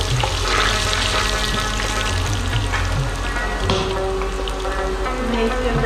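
Butter melting and browning in a pan for dal makhani in a home kitchen, a continuous close sizzle and crackle with a few faint clinks over it.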